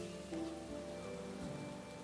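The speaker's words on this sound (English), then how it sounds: "look at that rain, the rain particles as I'm flying through it" Rain falls in Minecraft with shaders, a steady soft patter from a player flying through the storm, layered over sustained tonal game ambience.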